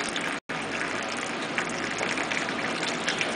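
Cornstarch slurry pours into soup broth as a steady close gushing splash that goes on for a few seconds with one brief cut near the start.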